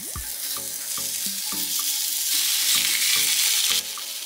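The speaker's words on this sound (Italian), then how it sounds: "Versiamo dell'olio in una padella e aggiungiamo i nostri finocchi." Fennel pieces fry in oil in a pan, a bright, steady sizzle that swells louder midway, with a few light knocks of the pan or utensil and no one speaking.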